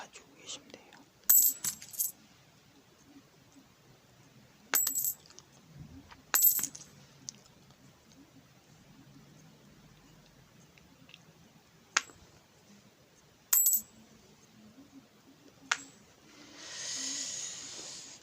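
Coins dropping and clinking in several short, sharp bursts spread across a quiet stretch, with soft handling noise between them and a brief hiss near the end.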